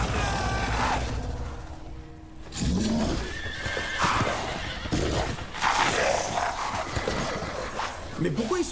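Horses whinny and neigh, with hooves clip-clopping and a dog barking, in the horror video game Resident Evil Village; the animal sounds are loud and layered over game noise while someone talks throughout.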